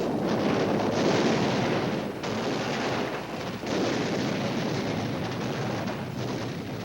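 Viet Minh artillery shelling of a French airstrip: dense, continuous booming and crackling fire with overlapping blasts, a loud steady barrage broken by a few brief dips.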